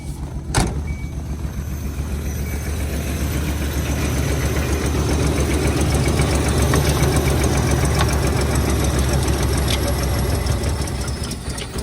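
A pickup truck engine idling after a jump start, a loud, steady running rumble with a sharp click near the start, continuing evenly without speech.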